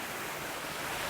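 Roberto Barrios waterfalls near Palenque in Chiapas, Mexico, give a steady, unbroken roar of rushing water that fills the whole moment evenly, with no voices over it.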